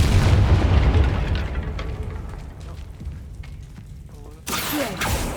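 A Confringo fire spell bursts in Hogwarts Legacy, a heavy boom at the start that rumbles and fades over several seconds, followed by a second crackling blast near the end, with a voice speaking over it.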